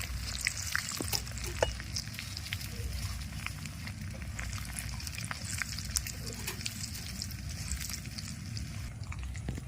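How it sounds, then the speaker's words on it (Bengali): Whole spices and halved dried red chillies fry in hot oil with a continuous crackling sizzle, scattered sharp pops and the scrape of stirring, all heard close up without talk. "তেলের উপরে সমস্ত গোটা মশলা দিয়ে এক মিনিট ভেজে নিয়েছি"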